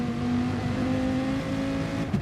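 Ferrari GT race car from a sim racing game, its engine droning in a steady high-pitched tone with a small pitch shift partway, continuous and close for the whole stretch, alone without talk.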